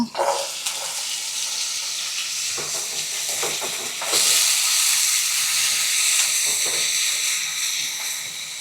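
Jackfruit seeds sizzle and hiss steadily in hot oil in a pan with turmeric, a constant frying crackle with occasional stirring scrapes, growing slightly louder midway, no talking.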